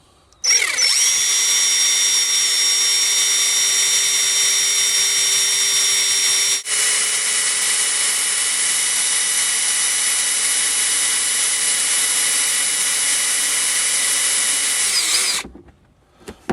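A power drill drilling out a Ford car lock whines loudly and steadily for about fifteen seconds, with a brief hitch midway, then winds down to a stop.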